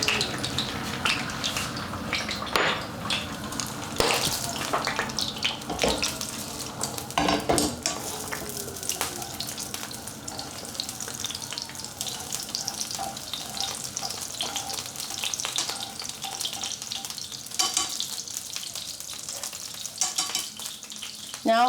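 Egg frying in hot oil in a pan for Chinese stir-fry noodles, a steady crackling sizzle with occasional utensil scrapes and clinks against the pan, close and continuous throughout with no talking.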